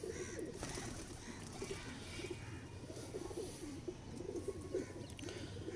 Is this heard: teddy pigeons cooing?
yes